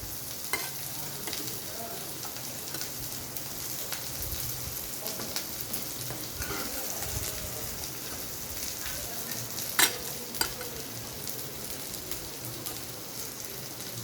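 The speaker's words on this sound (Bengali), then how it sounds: "এবার এই কাজুগুলো একটু ভাজা হবে" Cashew nuts fry in hot oil for a rice polao, giving a steady close sizzle with scattered stirring scrapes and a couple of sharp clinks near the end.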